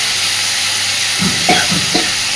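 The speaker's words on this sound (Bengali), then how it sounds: "এবার দিয়ে দিচ্ছি 2-3 চামচ মতো আদা রসুন বাটা।" Ginger-garlic paste hits hot oil in a pan with a loud, close sizzle, followed by a few stirring scrapes in quick succession.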